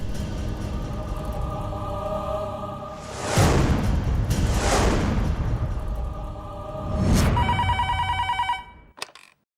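An old-style telephone bell rings in long bursts in a Telugu TV drama scene, mixed with dramatic whooshing swells, then cuts off abruptly.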